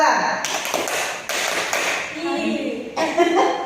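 A group of students in a guidance counseling session claps in unison, sharp hand claps spaced through the moment with murmuring voices and chatter underneath.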